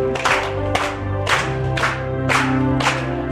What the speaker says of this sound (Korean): 박수 치시면서 부르십시다.